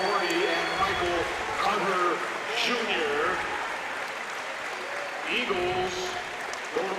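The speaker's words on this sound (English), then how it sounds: "The crowd is feeling it." A crowd applauds and cheers at a college basketball conference championship game in a gym, sustained clapping and cheering throughout, with an announcer talking over it.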